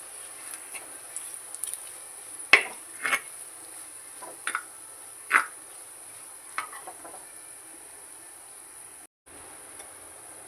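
Coriander powder and chili powder roasting in hot oil for a fish curry, a faint steady sizzle broken by scattered soft clinks and scrapes of stirring.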